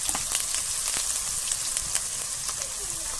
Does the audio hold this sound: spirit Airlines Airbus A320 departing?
no